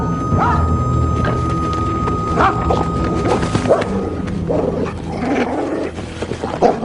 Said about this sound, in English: We'll call that dog off if you keep your seat.